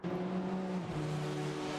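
GT3 race car in a racing video game lapping Road Atlanta through the turn 10 chicane and turns 11 and 12, a steady engine drone with a brief pitch dip midway as it works through corners.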